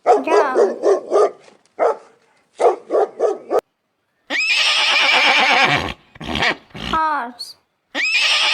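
Dog barking in loud, quick clustered barks, short bursts separated by pauses early on, followed by louder harsh sustained animal calls later.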